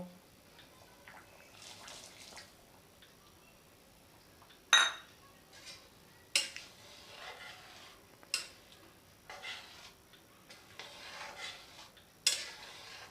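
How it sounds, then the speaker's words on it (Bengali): Soaked sago pearls are tipped into a pot of boiled potatoes and stirred, giving faint scraping, soft wet splashes and several sharp clinks of a spoon against the metal pot, spaced irregularly in a quiet room. "এবার আমি ভেজানো সাবুদানাগুলো দেব।"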